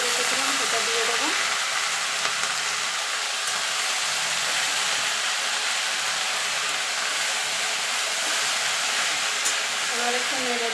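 Water spinach frying with onion in a pan gives a steady loud sizzle throughout, with a few faint stirring scrapes.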